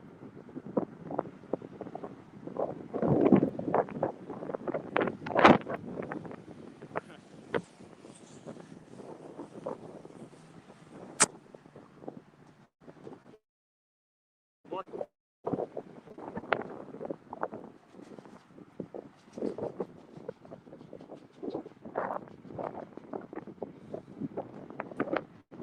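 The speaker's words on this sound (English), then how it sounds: "A little windy, but not." Gusty wind buffets the microphone beside a fishing bridge at Sugarloaf, rumbling in uneven bursts, dropping out briefly around the middle and then returning in choppy gusts.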